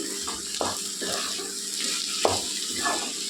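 A spoon scrapes and stirs ivy gourd curry with chilli powder in a hot pan, with a steady sizzling hiss underneath and a few sharp scraping strokes.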